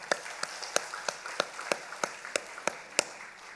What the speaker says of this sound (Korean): 우리 현지 박수해 주세요.